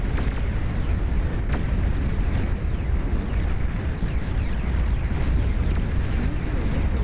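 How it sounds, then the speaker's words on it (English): Missiles launch and explode in a video game as a dense, continuous roar of rumbling blasts, loud throughout with no quiet gaps. "Fire your missiles."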